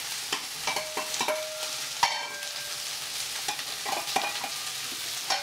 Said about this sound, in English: we're going to drop the mushrooms right in the pan